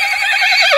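A horse at the Balotra horse market gives one short, loud, close neigh with a wavering, high whinny rising at the end, with nothing else heard.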